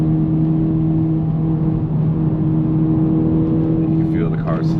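A Honda Civic Type R (FL5) engine holds steady throttle on a race track, a loud continuous drone with a strong steady tone throughout, under a voice near the end.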